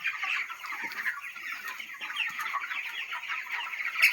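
Chickens and young chicks on a chicken farm make a dense, continuous chorus of high peeping and clucking, fairly close and steady throughout.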